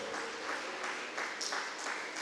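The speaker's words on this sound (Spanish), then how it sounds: "Dale fuerte aplauso al Señor si lo cree" A church congregation claps at a fairly soft level, the applause pulsing in a loose, even rhythm as if clapping along, with no voices over it.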